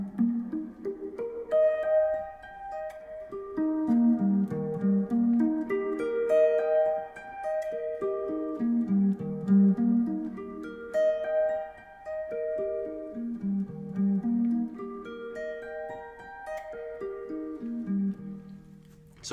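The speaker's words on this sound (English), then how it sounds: "we've picked all of this with sweep picking, and then here we're hammering on this note with our pinky" Guitar sweep picking across bar chord shapes with pinky hammer-ons, rolling arpeggios rising and falling in repeated cycles, played close and steady without any talk.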